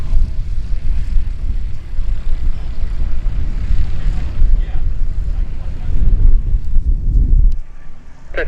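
A light aircraft arrives at the Oshkosh airfield during EAA AirVenture 2021, its engine a low, steady rumble mixed with heavy wind buffeting close to the microphone, easing off near the end.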